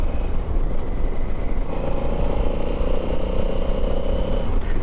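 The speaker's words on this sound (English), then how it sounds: "It's a lovely engine note. The exhaust, it's just a standard exhaust, but it does sound nice." Honda Africa Twin parallel-twin engine with a standard exhaust while riding on Devon A roads, a steady droning engine note under wind rush, rising in pitch partway through as the bike pulls.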